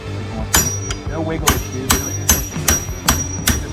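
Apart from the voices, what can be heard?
hammer striking a punch on a quad axle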